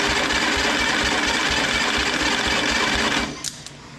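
Homemade 30-inch vertical band sawmill on a spin test with no tensioner fitted, a loud rapid rhythmic mechanical whir and clatter running steadily before cutting out abruptly near the end.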